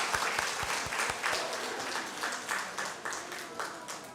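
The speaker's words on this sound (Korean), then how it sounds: "다시 한번 박수로 격려하고 축복하겠습니다." Church congregation at a Sunday worship service applauding in blessing, a soft, rhythmic round of clapping with slightly pulsing beats and a few low thumps early on, heard from a moderate distance.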